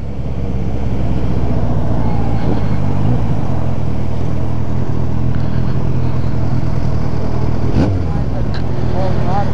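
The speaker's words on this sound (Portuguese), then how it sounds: "Aí começou a falhar de novo a moto" A motorcycle engine runs continuously with an uneven, stumbling drone and occasional sputtering catches, heard from the rider's position amid road noise and other traffic, with people talking over it.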